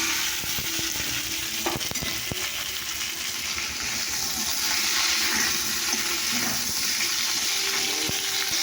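Potatoes and tomatoes fry in oil with five-spice, giving a continuous, fairly soft sizzling hiss with occasional crackles and no talk.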